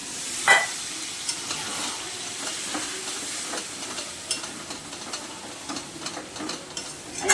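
Chicken curry cooked with yogurt in a hot pan as water goes in, a sharp burst of sizzle at the start, then a steady simmering hiss with scattered stirring clinks and scrapes.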